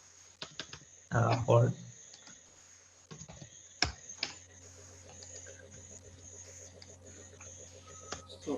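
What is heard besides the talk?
typing a website address on a computer keyboard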